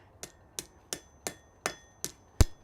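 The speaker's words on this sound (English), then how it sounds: "So the first one was a Harbor Freight hammer." Harbor Freight hammer striking hot metal in a smithy: seven sharp, evenly spaced ringing blows, close and clear, with a slightly harder final strike.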